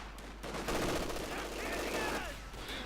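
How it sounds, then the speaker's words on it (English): Riflemen firing rifles at advancing Grenadiers in the strategy game Company of Heroes 2, a steady crackle of gunfire and bursts of battle noise throughout, with faint voice-like sounds mixed in. "Riflemen firing away there on the Grenadiers as they move up"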